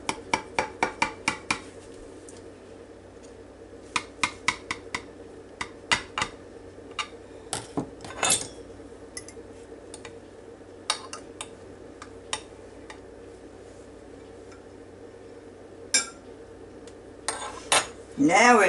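A knife cuts into a still-warm loaf of Alabama pecan bread. Irregular sharp taps and clinks of the blade against a plate or board come in clusters, with quieter stretches between them and a louder clatter at the end.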